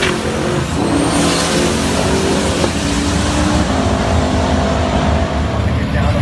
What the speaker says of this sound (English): I've seen this car do some half-track wheelies